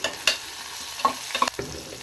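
Crushed ginger and garlic frying in a pan with cumin, curry leaves, green chilli and chopped onion, giving a steady sizzle broken by a few sharp scraping stirs of a spoon, close and moderately loud with no talking.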